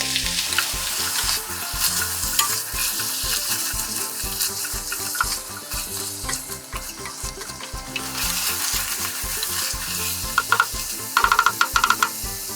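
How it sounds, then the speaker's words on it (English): Onions and pancetta sautéing in a pan for cabbage soup, a steady close sizzle with scraping and stirring clicks, a few sharper utensil taps near the end. "Add the onions and the pancetta. Saute until the onions are translucent and the meat just begins to color."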